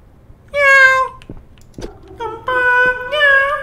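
A cat in a horror video game gives several loud, drawn-out meows at close range, with short pauses between them and no speech.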